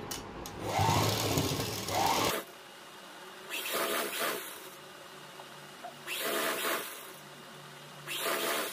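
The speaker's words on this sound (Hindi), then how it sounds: "तो दूसरी साइड की सिलाई भी हम उसी प्रकार से लगाएंगे जैसे कि हमने पहले वाले पार्ट पे लगाई है।" A sewing machine runs in bursts along the side seam of a pair of pants, a loud steady whir for about two seconds, then shorter stitching runs separated by quiet pauses.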